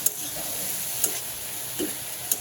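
Potatoes frying and browning in a pan with oil during home cooking, a steady close sizzle with a few soft stirring scrapes, no talking.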